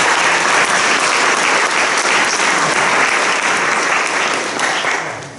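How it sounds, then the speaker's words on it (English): A lecture-hall audience gives a sustained round of applause for the lab staff at a public physics lecture, a dense, steady wash of many hands clapping close by that holds for several seconds before tapering off at the end. "we owe a round of applause for the lab staff"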